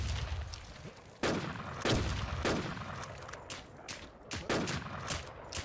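Rapid bursts of gunfire from a shooter video game, loud and close, with several sharp volleys spaced through the stretch over a steady busy game backdrop, no talk.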